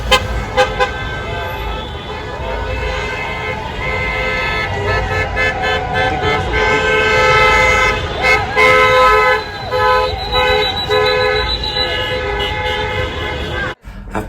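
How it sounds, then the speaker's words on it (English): Cars honk repeatedly in support of street protesters at a large gathering at intersections, with loud overlapping horn blasts and toots over a dense, continuous crowd and traffic roar. "cars drove by honking their support"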